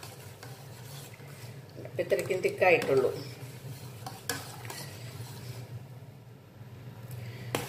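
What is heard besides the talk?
stirring thickening kanafeh cornflour and maida mixture in pan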